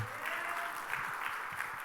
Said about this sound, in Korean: 하나님께 큰 영광의 박수를 올립니다.